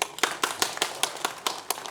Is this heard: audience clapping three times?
yes